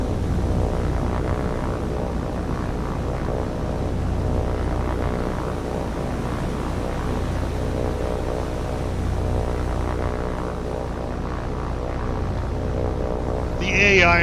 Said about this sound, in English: So now we're going to attack this float plane. This is the Japanese float plane.